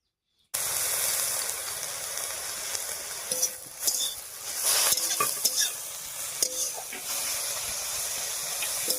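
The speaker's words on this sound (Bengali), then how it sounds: "হলুদ লবণ দিয়ে একটু নাড়িয়ে নিলাম" Greens for a village-style fish curry with turmeric and salt hiss loudly in a hot pan, a constant close sizzle with scraping stirs and light clinks of the spatula over it.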